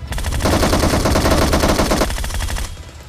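Rapid automatic gunfire from the BGMI mobile video game rattles in a dense, steady burst of quick shots for over two seconds, then cuts off, loud and close.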